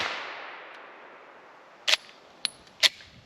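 A B&T Hush Puppy suppressed pistol, a modernized Welrod, fires three sharp, muffled shots in quick succession, close by, after a fading hiss of noise.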